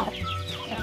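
Backyard chickens cluck close by in a brief burst of throaty clucks and murmurs over a soft barnyard background.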